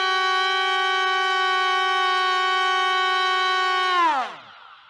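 A C-17 RC model plane, switched on, gives off a steady, whining electric motor hum for about four seconds before it winds down and falls away sharply.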